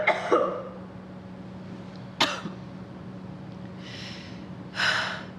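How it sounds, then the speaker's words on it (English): A person coughs a few times, short sharp bursts spaced apart with breathy gasps between, close and fairly quiet in a calm room. "How long have you had that cough?"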